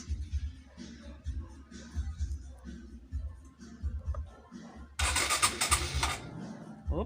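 A car engine being cranked with a 12-volt battery reading 13.4 volts: rhythmic starter churning for about five seconds, then the engine catches with a louder burst, close up.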